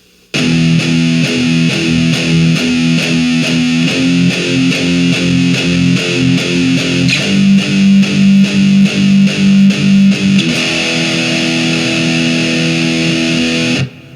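A slow, heavily distorted electric guitar metal riff chugs steadily through chord changes, loud and sustained, with no voices.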